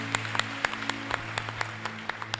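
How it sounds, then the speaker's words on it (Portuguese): Sparse, scattered claps from a small audience at a religious question-and-answer seminar, a dozen or so distinct sharp hand claps at irregular intervals over a steady low hum. "Um aplauso para essa resposta."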